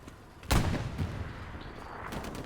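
Tank gunfire in the World War II shooter Hell Let Loose at St Marie Du Mont, one heavy boom with a long rumbling tail, followed by fainter distant blasts and rolling battle noise.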